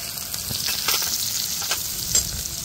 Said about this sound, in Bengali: পেঁয়াজটা দিয়ে দেবো তেলের মধ্যে।